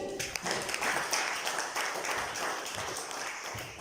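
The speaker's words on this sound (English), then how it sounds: "Let us put a round of applause in welcoming DTL Harish Bhagavan uncle to the stage." A round of applause from a crowd at a club event welcoming a speaker to the stage, dense and continuous clapping throughout, fairly close.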